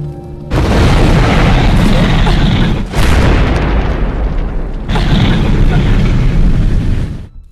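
A car blows up in a film scene, a loud booming blast followed by sustained roaring fire and a second heavy burst, with a voice speaking over part of it.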